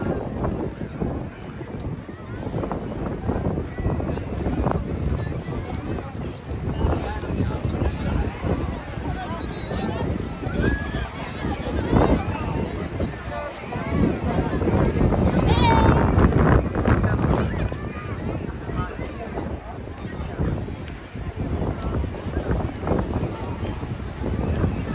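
Strong gusty wind on the seaside promenade near Hassan II Mosque in Casablanca, buffeting the microphone in loud rumbling surges, rising to a peak midway, with a person speaking intermittently over it.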